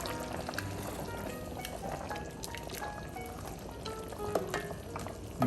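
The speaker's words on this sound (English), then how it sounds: "let me give it a stir here" A spoon stirs a pot of slow-cooked Manhattan clam chowder, the steady bubbling simmer filling the sound with soft liquid swirling and small clinks near the end.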